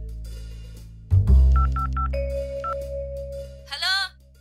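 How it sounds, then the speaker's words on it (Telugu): A phone being dialed, heard as a thump followed by a quick run of four or five keypad tones at an even rhythm, then a steady tone and a brief warbling ring at the end, close and fairly clear. "ఇప్పుడు ఫోన్ చేద్దాం"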